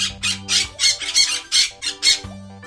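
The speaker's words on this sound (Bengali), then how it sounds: "এটা হলো তোতা। তোতাকে ইংরেজিতে বলে প্যারট।" A parrot squawks in a rapid series of about eight harsh, loud calls, close and clear, alone over a soft musical background.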